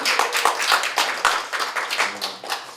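Audience at a marketing academy orientation forum claps for a presenter, fairly close, distinct individual claps in an uneven rhythm rather than a dense roar, lasting a few seconds.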